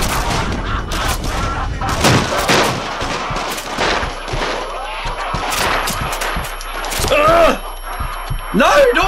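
Gunfire in the VR shooter Until Dawn: Rush of Blood, a string of sharp close shots in quick bursts with brief pauses, mixed with game sounds and people talking over them.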